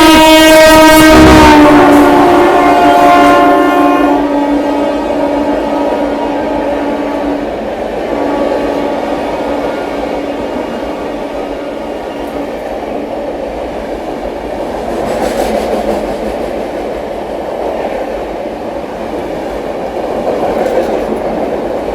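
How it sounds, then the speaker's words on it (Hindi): The 12301 Howrah–New Delhi Rajdhani Express, hauled by a WAP-7, sounds a loud, close horn blast at the start, then roars past in a long, steady rumble of clattering wheels. "अपनी मगध एक्सप्रेस को ओवरटेक करने आ रही है पीछे से 12301 हावड़ा नई दिल्ली राजधानी एक्सप्रेस"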